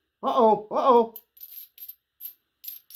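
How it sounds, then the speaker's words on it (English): A silver coin drops onto the floor, giving two ringing metallic clinks followed by a few faint, scattered rattles as it settles. "And I dropped one on the floor."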